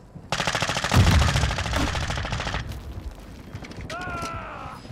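Automatic gunfire in Call of Duty Warzone, a rapid, loud burst of shots for about two seconds that tapers into scattered echoing reports, followed by a short rising electronic tone.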